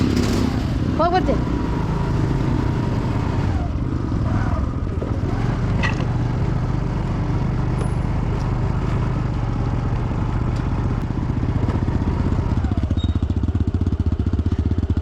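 A Honda Dio scooter rides an off-road trail, its engine a steady mid-pitched drone with clattering over bumps throughout, close to the rider, while voices talk over it.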